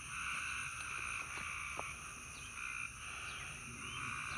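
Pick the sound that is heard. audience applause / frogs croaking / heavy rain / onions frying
frogs croaking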